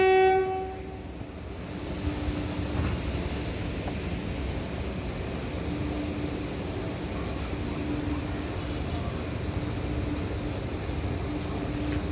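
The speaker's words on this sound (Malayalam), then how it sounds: "പച്ചക്കൊടി വീശി ട്രെയിൻ പോകാൻ നോക്കാം കേട്ടോ." The Rajya Rani Express pulls away from a station. A loud horn blast opens the sound, then the steady, low rumble of the train's wheels and carriages continues on its own.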